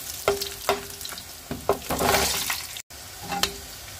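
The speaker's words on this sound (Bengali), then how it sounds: "এখানে আমি কয়েকটি লাল শুকনো মরিচ ভেজে নিচ্ছি।" Dried red chillies frying in hot oil in a pan give a close, crackling sizzle with several sharp stirring clicks and spatters across the few seconds.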